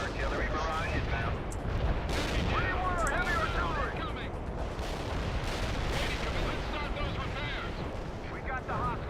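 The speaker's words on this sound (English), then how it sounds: "Artillery barrage inbound." Artillery barrage in the World in Conflict video game, a dense stream of booming impacts and gunfire rolling continuously, with game voices and talk layered over the chaos.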